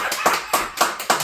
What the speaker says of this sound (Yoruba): Ẹ lè pàtẹ́wọ́ fáyán